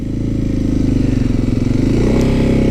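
A 2023 Kawasaki KLX300SM 300cc motorcycle engine revs loud and close, with a throbbing thump that climbs in pitch toward the end.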